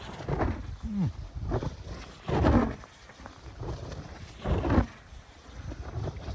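Wind gusts buffet the microphone on a hill at a New Zealand drifting event, with low rumbling bursts swelling and fading every couple of seconds against faint background noise.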